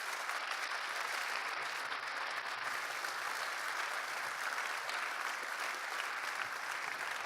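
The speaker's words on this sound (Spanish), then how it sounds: "Denle un fuerte aplauso al Señor, por favor." A church congregation applauding, a continuous, even wash of many hands clapping sustained for several seconds without pause, with no speech over it.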